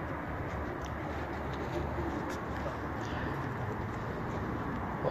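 Pigeons coo softly on a rooftop, a low steady murmur of cooing against constant background hiss, with no voices.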